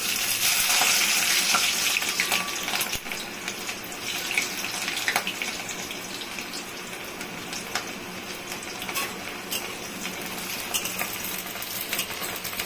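Chopped onion fries in a pan with garlic, giving a steady bright sizzle and hiss, with intermittent scraping as it is stirred, close up and with no talk.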